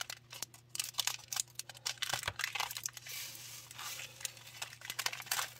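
Plastic bags of diamond painting drills being snipped open with scissors and handled, a close run of crisp crinkling and sharp cutting snips over a faint steady hum.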